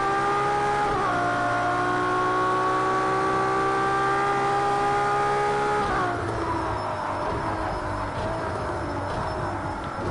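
Hybrid supercar driving to warm its tyres, giving a loud, close, steady engine drone with whining harmonic tones that shift down in pitch twice, like gear changes, with no talking.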